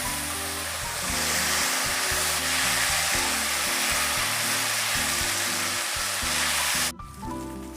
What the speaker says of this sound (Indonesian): Digoreng sebentar saja teman semua, sampai sedikit kecoklatan ya